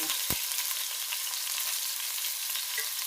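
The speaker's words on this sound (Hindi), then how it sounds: "इसको भी अच्छी तरह फ्राई करूंगी।" Cubed chicken sizzles steadily in a hot pan, a continuous close hiss with one sharp knock of a utensil near the start and faint scraping later, with nobody speaking.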